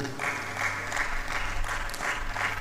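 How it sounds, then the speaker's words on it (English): Steady applause from an audience at an International Women's Day 2025 event honoring a woman, many hands clapping continuously at moderate volume over a low background hum. "Please clap for this beautiful woman."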